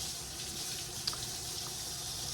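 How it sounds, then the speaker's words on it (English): Steady hiss of tap water running into a sink while hands are rinsed under it, continuous and fairly close with a small splash partway through, in a home kitchen during egg cooking. "I am gonna rinse my hands off"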